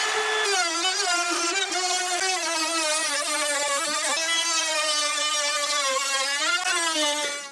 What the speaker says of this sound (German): hier muss ich ein 10 mm Loch reinmachen. Neue Tiefe eingestellt und schon geht's los.